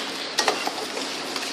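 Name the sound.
stirring a mixture to dissolve it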